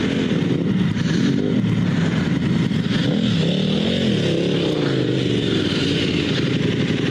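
A dual sport motorcycle revs loudly and continuously in deep sand before a drag race, its engine note wavering up and down as the throttle is worked, close and dominant throughout.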